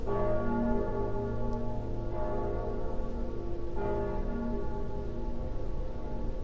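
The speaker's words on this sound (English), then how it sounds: "And the bell tolls and the lords awaken." A deep bell tolls slowly in Dark Souls 3, its rich, sustained ringing repeating at a steady interval under a low droning background, with no voices.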